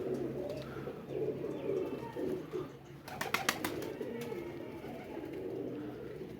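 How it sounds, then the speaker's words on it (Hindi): Pigeons in a loft feeding on grain after moulting, with steady soft cooing and murmuring from the flock, a few brief chirps and a short burst of fluttering or pecking near the middle. "बाकी ये कबूतर हैं, ये दाना वगैरह खा रहे हैं।"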